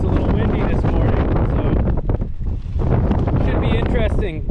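Wind gusts at a mountain campsite on Mount Pugh, buffeting the microphone with a loud, rumbling rush while a person talks over it.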